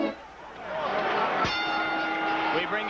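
A boxing ring bell clangs once between rounds of a 1986 Mike Tyson fight, striking sharply and ringing on with sustained tones over a steady murmur of arena crowd noise.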